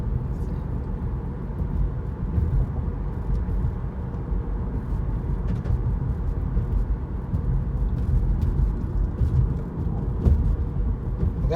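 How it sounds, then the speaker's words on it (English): A 2012 Acura TL with about 200,000 miles accelerates on the road, a steady low engine and road drone running throughout as the transmission shifts up into fifth gear. "now you gotta get going for it to shift into fifth"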